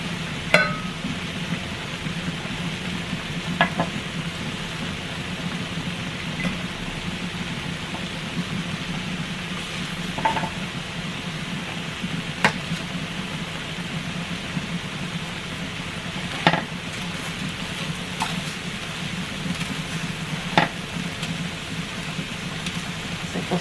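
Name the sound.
garlic cloves roasting in a pan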